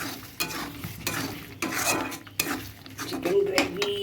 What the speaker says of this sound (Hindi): चिकन भी डाल दिया। चिकन को भी अच्छा से फ्राई करूँगी।